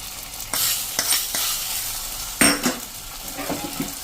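Drumstick curry with garlic chutney and gravy is stirred in a pan on a gas stove, oil sizzling steadily under scraping spoon strokes and occasional metallic knocks against the pan.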